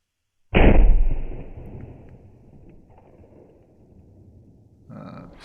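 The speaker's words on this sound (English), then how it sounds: "Then we have the second shot in slow motion." A single loud CZ 557 Eclipse rifle shot at an outdoor shooting range in snowy conditions, with a sharp crack followed by a long rumbling echo that slowly fades, and another quieter sound near the end.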